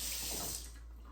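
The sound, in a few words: rinsing fingers under a kitchen sink tap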